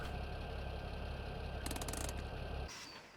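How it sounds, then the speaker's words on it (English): Tractor engine in Farming Simulator 17 idling with a steady low rumble, then cutting off abruptly near the end, leaving a faint fading tail; no talking. "So this tractor will be our raking tractor now"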